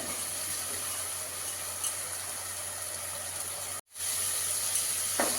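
Onion, ginger, garlic and tomato paste masala frying in a pan, a steady close sizzle and hiss that cuts out briefly near the end before resuming, with no talk.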